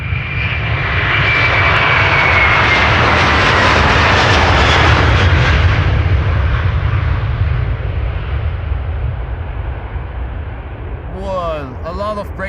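Airbus A330 airliner jet engines at Schiphol airport, a loud sustained roar that swells to a peak and slowly fades as the aircraft climbs away, with a brief faint voice near the end.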